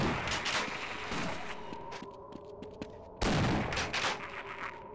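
Shotgun blasts in the Half-Life video game, heavy booming shots with a dense wash of sound between them, a burst at the start and a loud sudden blast near the end.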